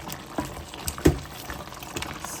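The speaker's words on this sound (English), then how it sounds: "I don't want to put a lot of water in at a time" Water pours into a pot of Jamaican-style oxtail cooking on the stove, a faint splashing trickle with a few soft bubbling pops and no talk.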